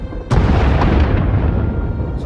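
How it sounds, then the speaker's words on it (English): A single deep boom hits suddenly, then a long rumbling roar that slowly fades, like a nearby bomb blast, during a bombing in the video game Star Wars: The Old Republic on the planet Ord Mantell. "Sounds like the bombing's getting closer."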